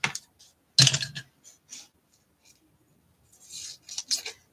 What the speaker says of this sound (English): Let me find my other scissors that will cut my tape better.